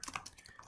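Short burst of typing on a computer keyboard in an office, several quick, light key clicks in an uneven rhythm, close and quiet.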